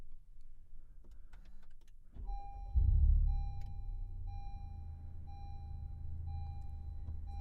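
A 2020 Honda Civic Type R's engine starts with a push-button, a brief starter crank and then a rising roar that settles into a steady, low idle with a faint whine, close by, after some quiet clicking.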